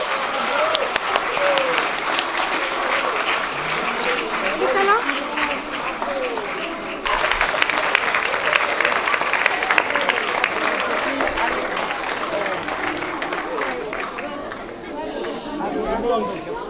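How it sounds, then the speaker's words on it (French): An audience at a spring poetry event in Limoux, where a class of older primary pupils has been singing, applauds loudly and at length, with lively chatter and voices mixing in throughout. "on peut les applaudir bien fort."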